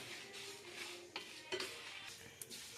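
Whole spices dry-roasting in a pan with no oil, a soft steady sizzle under a few clicks and scrapes of a spoon stirring against the metal.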